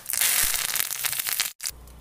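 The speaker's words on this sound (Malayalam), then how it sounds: "അതിലേക്ക് കുറച്ച് കരിവേപ്പില ഇട്ട് കൊടുക്കാം." Curry leaves dropped into hot coconut oil after mustard seeds for a Kerala tempering, a loud burst of crackling and spitting that cuts off briefly near the end before the sizzle resumes.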